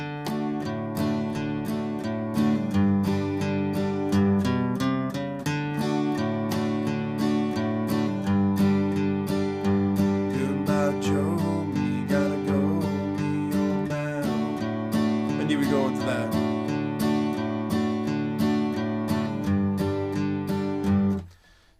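Acoustic guitar strums and picks the intro to a two-chord song, a steady country rhythm of bright strokes over ringing bass notes, played alone at moderate volume before ending abruptly.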